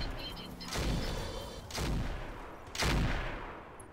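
Weapons fire in the Roguetech BattleTech mod video game: three loud, booming bursts of gunfire and artillery-like blasts roll out in sequence, each decaying before the next.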